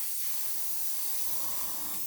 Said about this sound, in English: again spraying away from the tape if we can